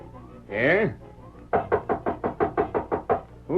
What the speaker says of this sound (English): He's going to knock at the door.